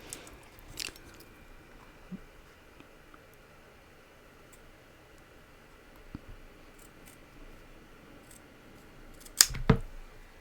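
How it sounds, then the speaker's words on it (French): Scissors snip through leather in a few short, quiet cuts, with a louder double crunch near the end against a faint background. "quand tu utilises des ciseaux pour couper les trucs en cuir"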